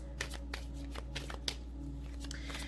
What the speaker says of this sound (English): I'm going to get some advice from Spirit from the True Love Reading cards by Belinda Grace